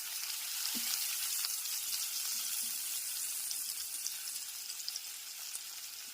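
Tomatoes frying in a pan with salt, a quiet continuous hiss and crackle with a few faint scrapes of mixing, steady and soft, with no talking.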